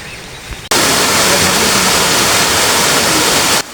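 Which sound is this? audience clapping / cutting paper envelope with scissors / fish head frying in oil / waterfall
waterfall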